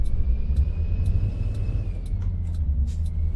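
A Peterbilt 387 truck pulling away in Euro Truck Simulator 2, a deep steady engine rumble with a faint whine above it and light clicks, close and continuous.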